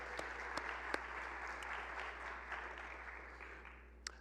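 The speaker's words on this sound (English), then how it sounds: "how about a round of applause" Audience applause at a university opening session for the spring semester, a soft, steady wash of many hands clapping at a distance, with a few sharper claps standing out, and no talking over it.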